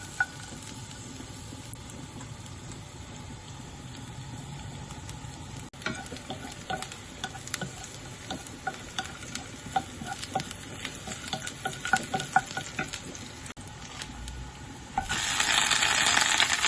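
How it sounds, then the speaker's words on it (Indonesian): Vegetables stir-fried in a pan give a steady sizzle with frequent scraping and tapping of a spatula, and the frying grows louder and hissier near the end. "Jadi sekarang kita lanjut masak sayur"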